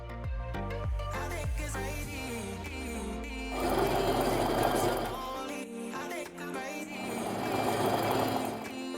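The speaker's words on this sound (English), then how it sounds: "I can sew just 1 needle width inside of where that point is" A sewing machine stitches quilt pieces in short runs, its motor buzzing and whirring close by, starting and stopping, amid tonal background sounds.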